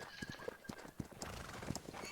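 Horse hooves clip-clop in an irregular trot while a horse whinnies briefly, in a multiplayer video game with a player riding an officer's horse; sounds are moderately near with game ambience behind.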